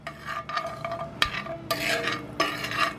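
Melted butter stirred around a hot steak pan, a utensil scraping browned bits off the bottom in continuous rasping strokes over a steady sizzle, close and fairly loud.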